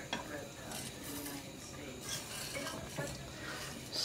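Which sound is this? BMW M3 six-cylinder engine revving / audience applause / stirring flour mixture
stirring flour mixture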